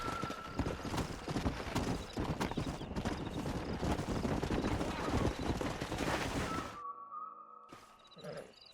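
Horse hooves clip-clopping steadily in the Red Dead Redemption video game, loud and close, with a whinny after the hoofbeats stop near the end.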